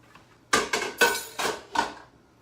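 A utensil stirs zucchini noodles with Parmesan in a pan, giving five sharp metallic clanks and scrapes in quick succession, loud and close, against near silence.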